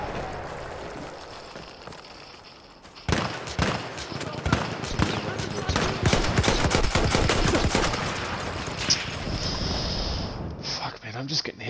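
Gunfire in Battlefield 1 on the Brusilov Keep map starts abruptly and keeps going in rapid, loud volleys, mixed with other battle noise, with someone talking over part of it.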